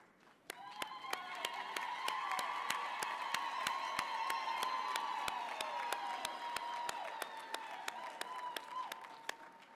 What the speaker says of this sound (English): Engineers, I'm going to ask you to stand again and give your support system a round of applause,